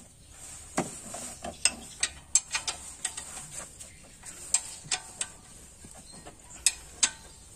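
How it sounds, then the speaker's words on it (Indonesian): A T-wrench ratchets as it tightens the alternator fan belt on a Toyota Kijang Kapsul LGX 1.8 EFI engine, sharp close clicks in an irregular series, quiet between, with no talking. "Berikutnya kita mengencangkan fan belt yang ke alternator ya, dituas juga, dicungkit atau dicukit pakai kunci T."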